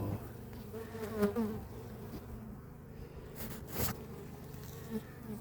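Honeybees buzz around a hive during pre-winter care, a steady close drone of insect wings with individual bees swelling louder as they pass near, no talking.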